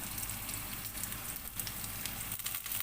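Chicken for tinola sizzles steadily in a hot pot, a continuous crackling hiss with small pops throughout.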